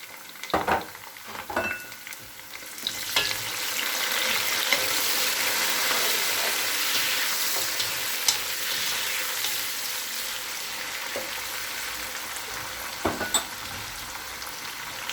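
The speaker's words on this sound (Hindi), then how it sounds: "अब इसमें टमाटर डाल देंगे।" Onions and tomatoes fry in a pan, a steady loud sizzle running throughout with occasional scrapes and clicks of a spoon stirring.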